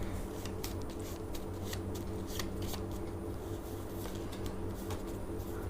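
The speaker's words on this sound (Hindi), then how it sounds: "बस एक बार शफल करके देखते हैं" Tarot cards being shuffled by hand in a steady run of soft riffling flicks and slaps, close and fairly loud, with no talking.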